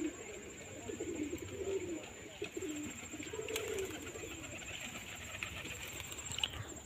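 Pigeons coo repeatedly in soft, low rolling phrases at a pigeon racing site being set up, heard moderately close over steady outdoor background noise with a faint high whine.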